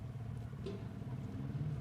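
A motorcycle on a cold, foggy road in rural Punjab, heard as a steady low engine drone throughout, moderately distant and fairly faint with a continuous rumble and no talk.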